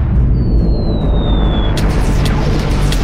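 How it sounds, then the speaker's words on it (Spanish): An antimatter bomb blows up the Earth in a video game: a loud, steady low rumble with a thin falling whistle gives way midway to sharp crackling bursts. "Y si de algún modo sobreviven a la explosión de esta bomba,"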